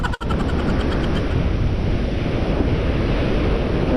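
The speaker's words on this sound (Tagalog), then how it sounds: "Galit na galit ang alon." Rough surf roars in a dense, continuous wash, heavy low rumble mixed with wind buffeting the microphone.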